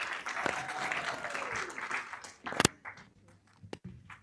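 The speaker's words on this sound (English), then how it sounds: "Can you clap for her as she comes, please?" Audience applause at a biennial summit as a presenter comes forward, a moderate wash of clapping from a seated crowd that thins and fades out, with a sharp clatter near the end.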